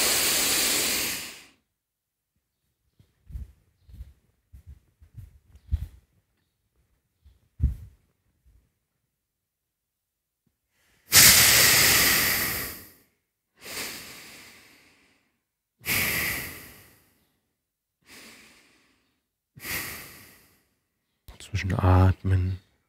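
Forceful nasal exhalations during a yoga breathing exercise, heard as several sharp breathy bursts separated by quiet pauses, followed by a short stretch of speech at the end.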